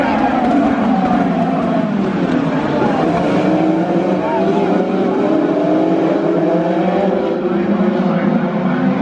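IndyCar race cars at Indianapolis Motor Speedway come out of a turn under green flag, a dense, steady roar of several engines with rising and falling pitch sweeps, loud and continuous throughout.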